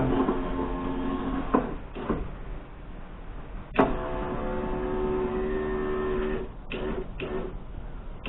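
Door window glass on an OBS Ford 4x4 diesel six-door Bronco build slides up and down in its freshly lubed track, making a steady close-up rubbing whir for a few seconds, with sharp clunks and knocks before and after.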